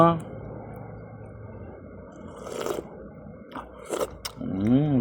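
Someone eats lunch with banana, making close, wet chewing and crunchy biting sounds in bursts, with a voice speaking at the start and again near the end.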